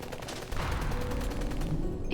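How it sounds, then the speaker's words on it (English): Continuous explosions and rapid gunfire from the Love and Deepspace video game, a dense unbroken rumble of blasts and shots with a sharper burst near the end, no talking. "The stench of gunpowder and blood fills the streets, and the continuous metaflux explosions make my heart pound like a drum."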